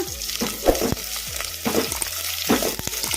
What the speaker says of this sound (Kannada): ಲೈಟ್ ಗೋಲ್ಡನ್ ಬ್ರೌನ್ ಕಲರ್ ಬರೋವರೆಗೂ ಫ್ರೈ ಮಾಡ್ಕೋಬೇಕು ಉಳ್ಳಾಗಡ್ಡಿ